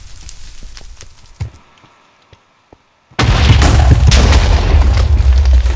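Minecraft Lucky Block Hunger Games explosions: a scattering of soft pops and thuds, a near-silent pause, then a sudden loud blast whose roaring rumble carries on to the end.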